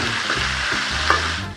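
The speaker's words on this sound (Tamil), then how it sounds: "காய் நல்லா வதங்கிட்டு எண்ணெயிலேயே" Ivy gourd (kovakkai) sautés in hot oil in a pan, giving a close, steady sizzle and crackle with occasional stirring scrapes, heard alone without voices.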